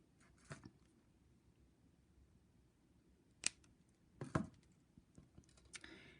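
Cutters snip the tail of jewelry wire while wire-wrapping beaded earrings: a couple of sharp, quiet clicks a second apart, nearby, with no voices.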